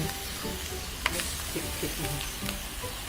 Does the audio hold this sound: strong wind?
no